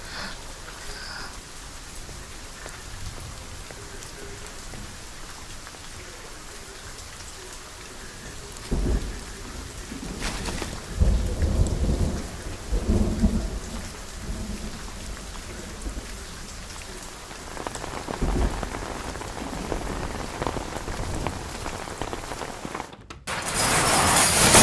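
Heavy rain pours down steadily, with several deep rolls and cracks of thunder booming through the downpour in the second half, loud and close, with no voices.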